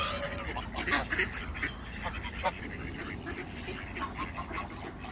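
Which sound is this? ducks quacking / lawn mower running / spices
ducks quacking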